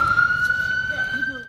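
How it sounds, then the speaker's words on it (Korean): A siren wails at a steady pitch, loud and close, over a rumbling background, during aftershocks from a magnitude 6-plus earthquake near Hualien, Taiwan. "사이렌 소리가 울려 퍼집니다"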